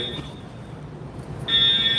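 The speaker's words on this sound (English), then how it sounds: "definitely alarms going off" A building alarm sounds as a steady high electronic tone, faint at first and then louder from about halfway through, with voices murmuring nearby.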